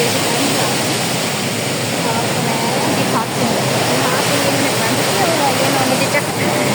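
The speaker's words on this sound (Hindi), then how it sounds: "यहाँ पे पानी का प्रेशर चेक करें, कैसे पानी उछल के जा रहा है।" Pressurised water gushes and churns through the gates of Taunsa Barrage, a loud, steady broadband roar filling the whole stretch without letup, close and continuous.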